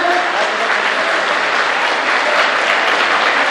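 An outdoor crowd gathered for a religious Bhagavat Katha event at a Shiva Gorakhnath temple applauds loudly and steadily, a thick, continuous wash of clapping welcoming the chief minister and the monks on stage.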